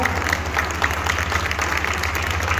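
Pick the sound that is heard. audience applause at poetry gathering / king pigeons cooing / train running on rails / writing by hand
audience applause at poetry gathering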